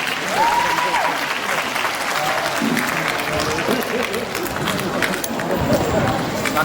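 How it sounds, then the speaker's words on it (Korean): Sustained loud applause from the audience at a Korean-language speech contest, steady dense clapping through the whole stretch with crowd noise mixed in. "여러분 큰 박수로 응원해 주시기 바랍니다"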